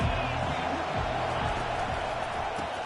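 A college football stadium crowd roars steadily and loudly during a kickoff return, forming a dense, unbroken wash of noise while a commentator talks over it.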